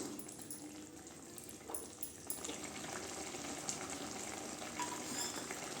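Crushed onion and garlic added to cooking small greens (sirukeerai) in a pan, a steady hissing sizzle with light stirring, fairly close and continuous.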